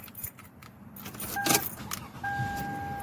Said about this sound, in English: now I'm turning the car on to check the transmission fluid